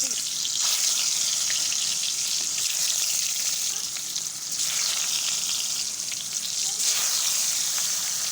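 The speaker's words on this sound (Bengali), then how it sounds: "আমি মাছটাকে ভেজে নেব কড়াইটা গরম হয়ে গেছে" Fish frying in hot oil in a kadai, a loud bright hiss and sizzle that swells and eases in waves, close up and without speech.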